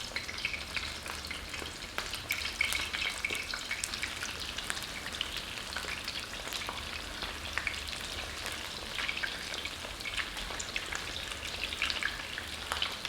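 Chicken wings fry in a crowded skillet with a constant crackling sizzle and dense popping spatter of fat, close and steady throughout with no voices.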